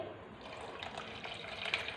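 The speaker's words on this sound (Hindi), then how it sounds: "इस कंटेनर के अंदर पानी डाल दें।" Water poured into a container of chopped coriander leaves in a kitchen, a steady close splashing trickle that rises slightly toward the end, with no talking.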